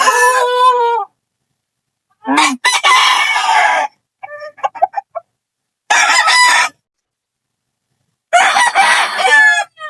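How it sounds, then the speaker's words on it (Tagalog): Fighting roosters at a chicken farm crowing loudly and close, several separate crows with quieter clucks between them and brief silent gaps. "Dito tayo sa manukan ng Tutula."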